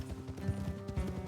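Horse hooves clip-clop in Red Dead Redemption 2 over a short stretch of riding, a soft rhythmic patter mixed under game sound and ambience.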